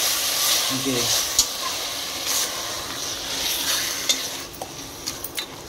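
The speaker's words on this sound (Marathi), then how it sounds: "परतून घ्यायचं।" Marinated mutton is stirred in hot oil in a pressure cooker, giving a soft sizzle with scraping stirs and a few sharp metallic clinks.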